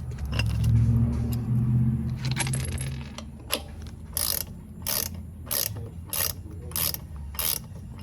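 A hand ratchet clicks in quick bursts of strokes while tightening the oil drain plug on a 2019 Harley-Davidson Street Glide, close and crisp, after some duller handling noise at the start, with no talk.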